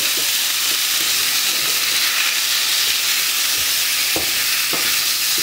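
Meat sizzles loudly in sunflower oil in a pan, a dense, continuous hiss with occasional soft scrapes and knocks as the pieces are spread around.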